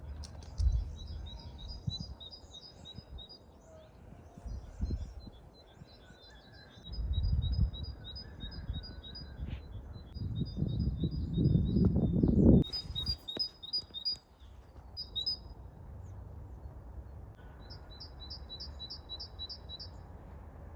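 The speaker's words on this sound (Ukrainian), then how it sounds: "гарно співають пташки і дуже гучно" Birds chirp and sing in repeated rapid trills throughout, loud and clear over low rumbling background noise outdoors.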